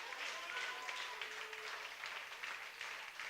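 Congregation at a French-speaking evangelical church service applauding together to acclaim Jesus Christ, a steady, dense wash of clapping heard from a distance and sustained throughout.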